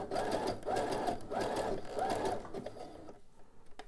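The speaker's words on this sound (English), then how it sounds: "And then I'm going to sew a little bit beyond this, about an inch, and then I'll take it out." A sewing machine stitching boxer brief fabric runs in four steady, rhythmic bursts close by, then slows and stops, followed by a few light clicks and handling sounds.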